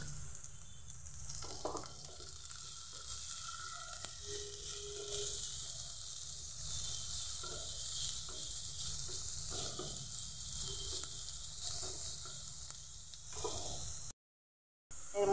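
Chopped carrot and capsicum fry in a pan, giving a steady, moderately loud sizzle with occasional stirring scrapes that continues throughout, then a short silence near the end and no voices.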